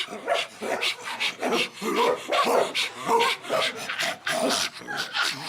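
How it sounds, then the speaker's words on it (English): Several leashed dogs out for a walk around the block bark in a steady run of rhythmic, fairly loud barks and yips that fill the whole stretch, close by and continuous. "Nathan, these are really important dogs."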